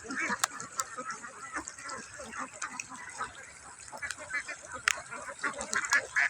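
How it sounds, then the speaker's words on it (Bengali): A huge flock of young ducklings calls in a thinner, more distant chorus of quacks, mixed with scattered sharp clicks and knocks. "আমার কাছে খুবই সুন্দর লাগতেছে হাঁসগুলা"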